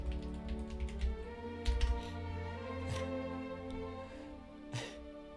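Fast typing on a computer keyboard, a quiet rapid patter of key taps in bursts with a few heavier strikes, faint and close against low background hum.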